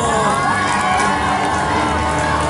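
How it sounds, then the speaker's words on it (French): At a wrestling match at Paris Manga, a loud crowd roars and cheers for the masked winner of a mask-versus-beard bout, a dense, continuous wall of shouts and whoops with no break. "Un tonnerre d'applaudissements pour Aigle Blanc"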